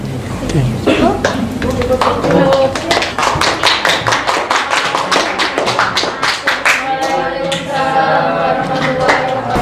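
A classroom of students applauds together for several seconds, a dense, steady burst of clapping hands that fills the room, with a few voices mixed in underneath.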